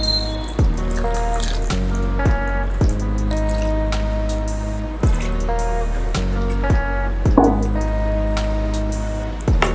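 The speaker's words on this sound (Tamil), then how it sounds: "தண்ணி வந்து நமக்கு வந்து ஆட் பண்ண போகிறோம்" Water is poured into a pot of rice for mushroom biryani, making a continuous splashing, trickling stream with repeated dull knocks and clinks of a vessel throughout.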